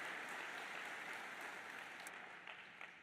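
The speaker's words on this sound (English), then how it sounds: "Ladies and gentlemen, please join me in a round of applause." Distant applause from a D-Day 80th anniversary commemoration ceremony crowd. It is a soft, steady wash of many hands that stays faint throughout and thins slightly toward the end.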